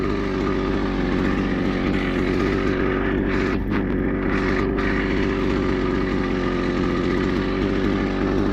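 A grass cutter runs continuously at a steady, loud motor drone close by, with a slight fluctuation partway through.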